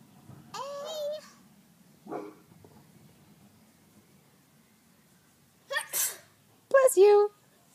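A person sneezes sharply near the start, followed by quiet pauses and short bursts of nearby speech in a calm indoor setting.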